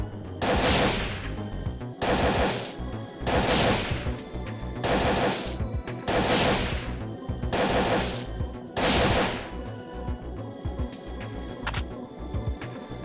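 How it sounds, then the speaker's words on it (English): Mounted guns in a military-style corridor of Parasite Eve 2 fire in about seven loud sustained bursts, each a rapid rattling volley lasting about a second, separated by short pauses with lower mechanical hum between them. "There's like 6 or 7 mounted guns."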